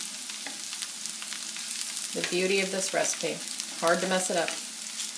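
Diced potatoes frying in a pan as diner-style home fries give a steady, close sizzle, with a voice speaking over it through the second half.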